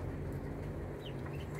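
Muscovy ducklings at feeding time on a small hobby farm, giving a steady, close background of soft clucking and peeping calls with no talk.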